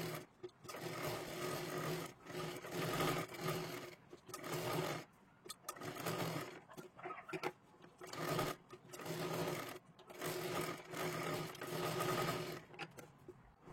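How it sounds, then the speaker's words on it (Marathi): A sewing machine stitches along both sides of a sleeve in repeated bursts of fast, even whirring, each run lasting a second or two, separated by brief pauses. "आता इथे पाठीमागच्या बाजूला व्यवस्थित आपल्याला दोन्ही बाजूंना शिलाई मारून घ्यायची आहे"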